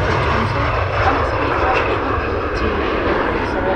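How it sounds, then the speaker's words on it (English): At Manchester Airport, a Loganair Embraer airliner departs with a loud, continuous engine roar that holds steady throughout, while someone talks over it. "Loganair Embraer departing there with the naked Loganair, we like to call it"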